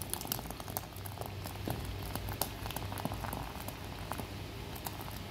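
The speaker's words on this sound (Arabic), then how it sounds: "البندورة عم تغلي كتير منيح" Tomato sauce boils steadily in a pot, with continuous bubbling, popping and spattering up close and no voices.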